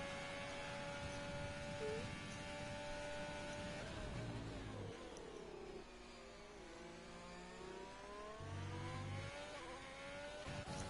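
Racing cars on track in an F1 video game at the Hungary round, engines droning and shifting pitch as cars pass and accelerate, a steady mid-level mechanical roar throughout.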